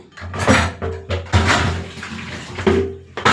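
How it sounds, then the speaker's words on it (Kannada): Water is poured into a juice jar in a home kitchen, with splashing, gurgling bursts and a few hard clinks against the container, close and fairly loud. "ಜ್ಯೂಸ್ ಜಾರು ನಾನೇನೀಗ ತೊಳೆಯಲ್ಲ, ನೀರು ಹಾಕಿ ಇಡ್ತೀನಿ"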